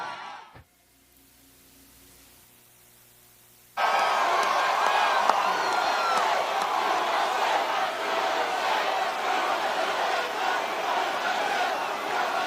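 A huge crowd at a presidential campaign rally in Pennsylvania erupts into loud, continuous cheering and shouting after a few seconds of near quiet, then stays roaring and steady to the end.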